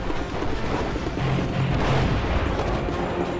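Lightweight artillery firing in the real-time strategy game Command & Conquer Generals, heard as a dense, steady rumble of distant booms and blasts that persists for several seconds at a fairly loud, even level.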